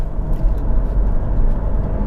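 A Mercedes SL R230 grand tourer accelerating on the road, a steady, loud low engine roar with broadband road and wind rumble that holds without a break.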